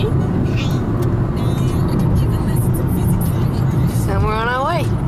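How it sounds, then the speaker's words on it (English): A car drives along on the way to school, its steady low engine and road rumble filling the cabin throughout, with a brief high chirping sound near the end. "I'm driving to school right now"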